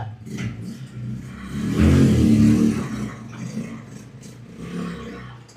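A motorcycle engine revs up and rumbles, swelling loudly in the middle and then settling back to a throaty idle, close by.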